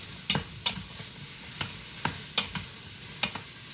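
Mushrooms fry in a pan with a soft steady sizzle while a utensil stirs them, making about eight sharp scraping clicks at an uneven pace, close and clear.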